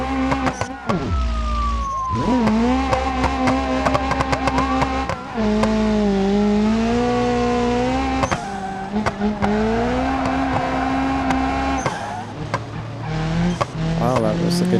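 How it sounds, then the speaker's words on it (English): A car drifts in the BeamNG driving game with a flat tire, its engine droning and shifting pitch while tires squeal in long sliding sweeps, loud and close, with brief breaks between runs. "Wow, that was a good drift."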